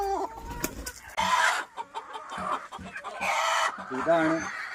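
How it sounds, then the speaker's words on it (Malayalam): Native hens cluck in short bursts close by, and a rooster's harsh call rings out among them, loud and uneven. "നമ്മളിലുള്ള ഏറ്റവും ഭംഗിയുള്ള പൂവൻ"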